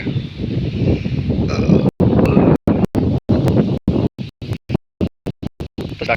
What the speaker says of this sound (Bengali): আকাশটা খুব মেঘলা বাতাস বইয়া যাইতেছে